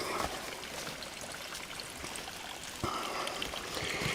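Steady stream of spring water pouring from a pipe at a mountain water source along a trail, a continuous close rushing splash with a brief louder surge near the end.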